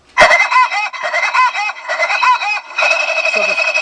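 Electric horn kit sounding its number 9 tune, a loud, warbling, rooster-like crowing melody in repeated phrases, activated by tapping a lead to ground, close and alone with no talk.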